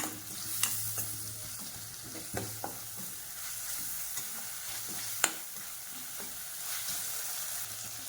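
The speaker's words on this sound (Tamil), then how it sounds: "கொஞ்சம் மல்லி இலை, கொஞ்சம் புதினா இலை, இதையும் சேர்த்துக்கோங்க. சேர்த்துட்டு எண்ணெயிலே வதக்கிக்கணும்" Coriander and mint leaves sauté in hot oil in a pan, giving a steady, close sizzle with occasional sharp clinks and scrapes of a spoon stirring, and no voices.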